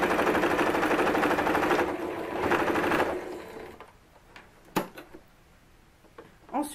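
A sewing machine stitching a 1 cm seam on a ruffled dress runs steadily and close for about three seconds, then stops, followed by a few sharp handling clicks and knocks.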